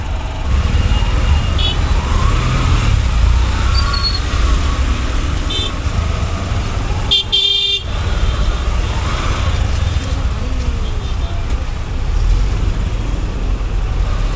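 Highway traffic rolls past during a monsoon motorbike ride from Mumbai to Nashik, a loud continuous roar of road and wind noise with a brief horn toot midway.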